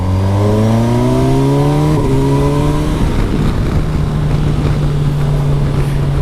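Kawasaki Versys 1000 SE GT four-cylinder motorcycle engine pulling steadily, pitch climbing through the gears in smooth rising sweeps, then settling into a loud, even cruising drone with wind roar close by.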